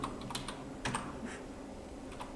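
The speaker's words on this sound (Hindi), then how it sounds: "आप कुछ भी यहाँ पर लिखते हो, जैसे मैं लिखती हूँ कुछ भी, रिया, सिया," Keystrokes on a computer keyboard while typing in Notepad, a soft, uneven patter of taps with a few sharper clicks, close and quiet, no voices.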